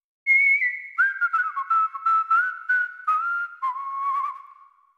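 One person whistles a clear series of sustained notes that step gradually downward, with short breaks between phrases. The whistling is close and alone, with no talk.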